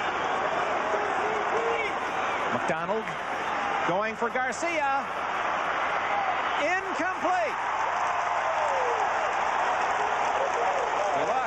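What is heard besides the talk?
stadium crowd at Rose Bowl football game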